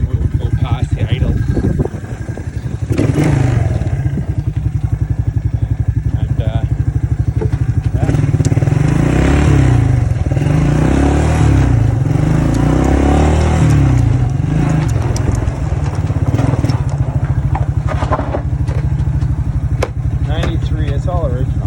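A 1993 Suzuki 250 Quad Runner ATV engine runs loud and close with a thumping, clattering idle that rises and revs in the middle, and someone talks over it throughout.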